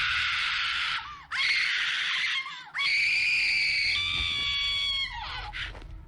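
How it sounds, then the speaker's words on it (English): A frozen servant in the RuneScape quest Broken Home screams in a video game, giving several shrill, wavering cries, each held for about a second, separated by brief gaps. "That sound you just heard comes from a frozen servant. She will continue to scream until you take a key from her."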